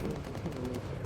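.50 cal machine guns firing in the bomber game Bomber Crew, a dense rapid rattle of low booming shots running without pause for about a second, loud and continuous.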